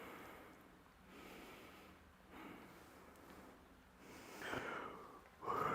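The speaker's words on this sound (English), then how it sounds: "Sorry, I had a yawn there." A powerlifter chilling before a squat session lets out a long, drawn-out yawn with breathy sighing, close and fairly quiet, ending in a louder exhale.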